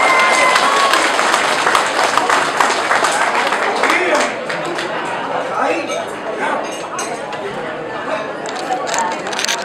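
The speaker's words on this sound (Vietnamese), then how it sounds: "Xin một tràng pháo tay." Dense applause and crowd noise fill a Lunar New Year banquet hall held by a Vietnamese veterans' association, with voices chattering under the steady clapping throughout.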